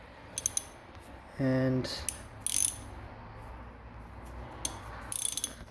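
A gear puller works on a blown transmission's 5th gear set, giving a few sharp metallic clicks and ratcheting taps near the mic, with one short mechanical burst and scattered clinks between quiet pauses; a brief spoken word slips in.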